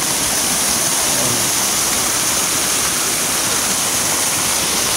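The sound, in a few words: Mahogany Falls waterfall, Trece Martires, Cavite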